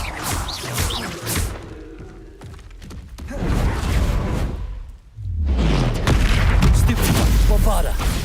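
Bombarda and Glacius spells fire off in Hogwarts Legacy combat, a string of loud booming blasts and whooshes with a deep low impact swelling near the end, dense and close, with game voices mixed in.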